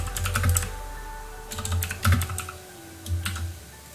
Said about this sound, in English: Now you want to just start typing your text.